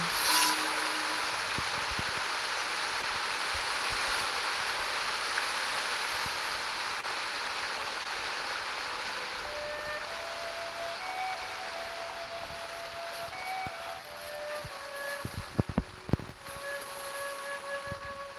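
Steady rushing river water in the Genshin Impact game world, a continuous broadband flow running throughout with soft tonal game sounds and brief clicks near the end, no voices.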